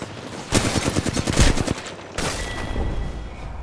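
Rapid bursts of gunfire from the video game Apex Legends, a loud fusillade of close shots in two clusters with a brief pause between them.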